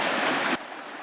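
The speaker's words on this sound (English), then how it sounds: "So this is Penny Creek right here." Creek water, a small trout stream in winter, rushes in a steady close wash that drops abruptly to a softer, quieter flow about halfway through.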